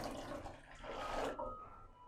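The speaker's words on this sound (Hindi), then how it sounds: "अब इसमें ठंडा बर्फ़ वाला पानी डालना है।" Ice-cold water is poured into Kashmiri pink tea, giving a soft splashing pour that swells and then stops, quiet and close, with no voices.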